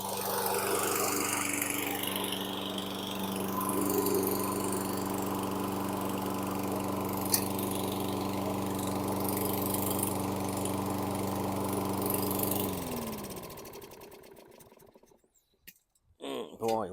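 A 2016 Toro Recycler lawn mower engine runs with a steady, loud drone, then sputters and fades into uneven, broken bursts near the end.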